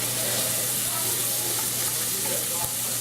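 Garlic and sage sizzle and fry in a pan, with a steady, close crackling hiss running throughout, a faint low hum beneath, and no voices over it.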